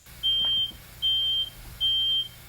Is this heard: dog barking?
no